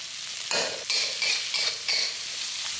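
Okra being stir-fried in a hot wok, with steady sizzling and a run of distinct scraping stirs at regular intervals, close and clear with no talk.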